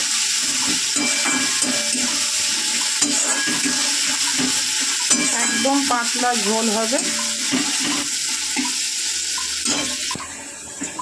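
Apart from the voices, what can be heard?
onions frying in a pan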